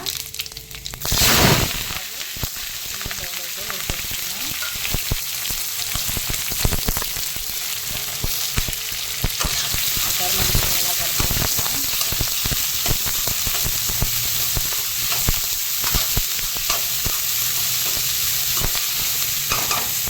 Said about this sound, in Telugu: పచ్చివాసన పోయేంత వరకు వేయించుకున్నాం